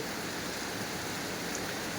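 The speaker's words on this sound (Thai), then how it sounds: "ณณเวลานี้ฝนยังตกหนัก" Heavy rain pours down steadily during a storm with flooding, a dense unbroken hiss that fills the whole moment with no voices.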